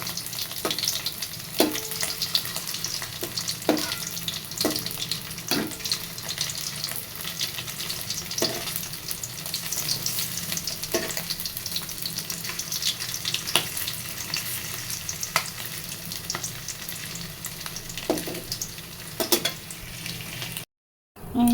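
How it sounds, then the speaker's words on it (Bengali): Paneer cubes fry lightly in hot oil after potatoes, a steady broadband sizzle with occasional sharp pops and spatters, loud and continuous, no voices, ending with a brief gap. "এখন দিয়ে দিছি পনির। মানে পনিরগুলো ভেজে নিব হালকা করে।"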